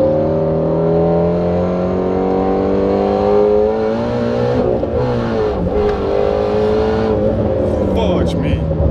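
A Whipple-supercharged Shelby GT350 heard from inside the car, its engine loud and close as it revs hard and climbs through gears with a downshift blip, while people talk excitedly over the roar.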